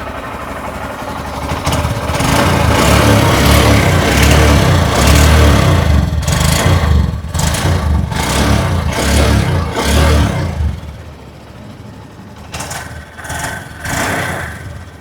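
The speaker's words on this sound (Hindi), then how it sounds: "आइए अब सुन लेते हैं इस बाइक की एग्जॉस्ट नोट।" A 2026 Honda Shine 125 motorcycle runs with its exhaust close by, a steady mid-pitched single-cylinder idle punctuated by several short throttle blips, then settling lower near the end.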